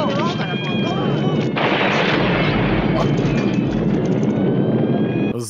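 Heavy explosions from detonated charges in an action film roll out as a loud, continuous blast and rumble that fills the whole stretch.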